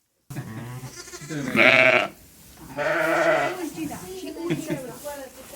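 A ewe and her lambs on a sheep farm bleat in two long, loud calls close by, followed by fainter bleats, while a person talks over parts of it.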